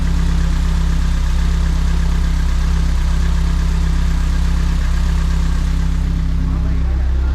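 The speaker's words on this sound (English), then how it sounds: "We'll get the engine warm up." A Honda Civic EF, converted to rear-wheel drive, idles steadily on a dyno while warming up, a loud continuous low rumble with a constant even drone throughout and no talk over it.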